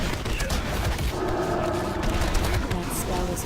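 The Pistol Barrage spell in World of Warcraft sounds as a rapid volley of gunshots, dense crackling fire over about three seconds, mixed with game noise and a player speaking.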